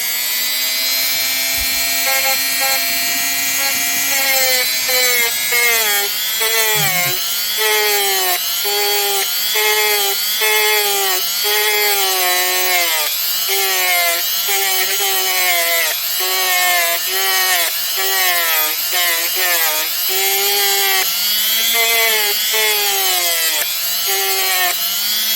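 Vintage turquoise jewelry is sanded dry with sandpaper, giving a long, close run of steady abrasive scrubbing strokes with a rhythmic, repeating pulse and a faint electric whine beneath.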